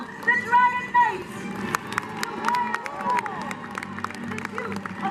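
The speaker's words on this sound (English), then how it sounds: "please clap and cheer as loudly as you can for the Dragon Knights" Arena crowd at a castle jousting show cheers and claps for departing knights, with horse hooves and a loud voice mixing in; steady broad crowd noise with bursts over about five seconds.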